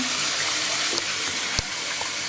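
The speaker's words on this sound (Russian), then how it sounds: "Идет и капает вода." Water running and splashing from a leaking faucet spout into a sink, a constant close stream with a couple of faint drip taps over it, no voices.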